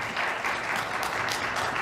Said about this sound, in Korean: 우리 다이자매는 뜨거운 박수 한번 하겠습니다